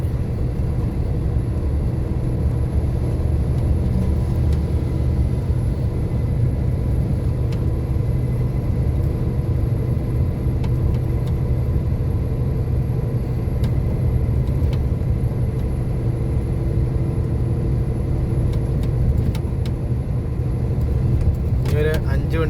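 Vehicle engines rumble steadily from inside a moving convoy of cars on a road in Mumbai, a continuous low drone with faint clicks, while a voice talks over it throughout.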